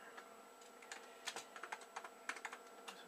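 Someone types with one hand on a computer keyboard at a classic DOS PC, producing faint, irregular clusters of clicky keystrokes with uneven pauses between them.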